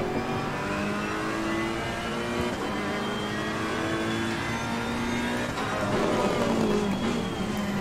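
A race car engine revs steadily in a GT racing video game at the Barcelona circuit, a continuous loud droning whine that rises and falls slightly with throttle, alone without talk.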